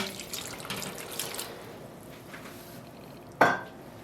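Water is splashed onto yarn during acid dyeing, with soft trickling and wet squeezing sounds, then a single brief, louder splash toward the end over a quiet background.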